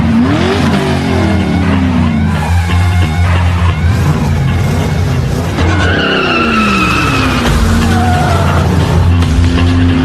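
Race cars skid on a racetrack at night in a film, with loud, repeated tire squeals and sweeping engine revs layered over a continuous roar.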